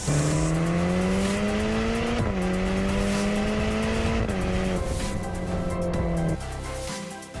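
A Ferrari Portofino driving at speed, its engine note loud and steady and rising through the gears with brief dips at the shifts, tire and road roar underneath, easing off near the end.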